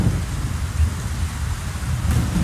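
Heavy rain pours down steadily in a jungle thunderstorm, with deep rumbling thunder rolling underneath and a dense, constant hiss of rain hitting leaves and surfaces throughout.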